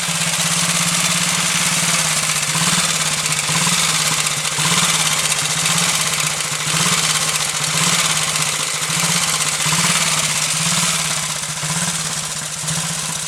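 A 1929 AJS 500 motorcycle engine, freshly rebuilt, runs steadily and loud up close, a rhythmic thumping idle that continues without a break.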